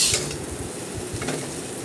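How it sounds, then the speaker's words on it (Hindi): Fried potato masala is scooped and scraped out of a pan with a spoon, giving a steady run of soft stirring scrapes and faint sizzling with light clinks of metal utensils, close up and without voices. "निकाल कर दूसरे बर्तन में रखना है।"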